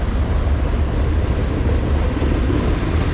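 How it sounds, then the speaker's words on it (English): A train passes in Pittsburgh as a loud, continuous low rumble with steady rolling noise throughout and no voices over it. "I heard the train from the background"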